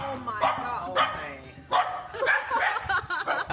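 Barks from a dog in a home in Ho Chi Minh City come in a few short bursts, moderately close, mixed with excited voices talking and exclaiming over it.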